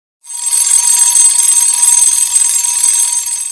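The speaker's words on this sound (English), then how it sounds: "Being awakened on a Saturday morning by the sound of an alarm clock" A Saturday-morning alarm clock rings loudly and steadily, a harsh, continuous metallic bell clatter that starts abruptly and carries on without a pause.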